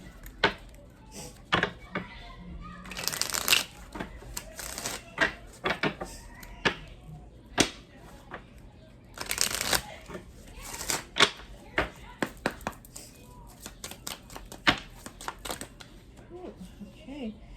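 Tarot cards shuffled and handled up close: irregular riffling bursts, flicks and soft taps of cards being laid down, scattered through the stretch without talk.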